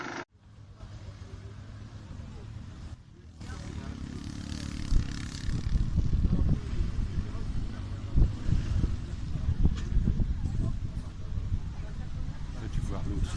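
Quad bike being ridden outdoors, an engine drone that builds in loudness with wind buffeting the microphone, rough and continuous, with voices talking over it.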